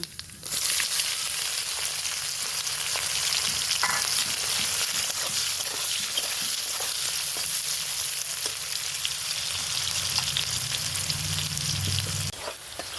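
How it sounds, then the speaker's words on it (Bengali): Steady, loud sizzling of onions frying in hot oil, a continuous crackle with occasional stirring scrapes, no voices. "পেঁয়াজগুলো ভেজে নেব"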